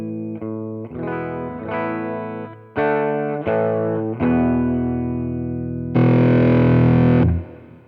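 An electric guitar played through a BOSS BD-2 Blues Driver overdrive pedal, gain set about three-quarters up, rings out in a series of sustained distorted chords, each left to hang before the next, ending on a louder, fuller strum.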